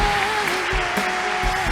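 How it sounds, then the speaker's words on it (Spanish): A church congregation claps loudly and continuously in a dense, steady burst of applause, with a sustained tone held underneath. "Dale fuerte ese aplauso a papá"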